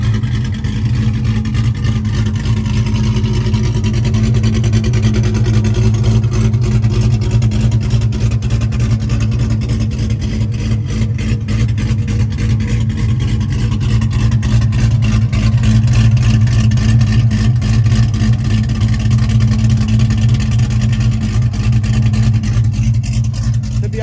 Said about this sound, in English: we're about to show you guys how the ZR1 sounds